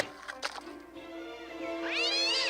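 A cartoon cat meows, starting with short mews, then holding a drawn-out, rising caterwaul that swells louder toward the end, alone without talk.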